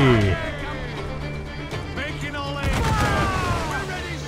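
Ship cannons boom in a naval battle in Assassin's Creed 4 Black Flag, heavy shots and crackling blasts layered over rumbling sea combat, with shouted voices mixed in.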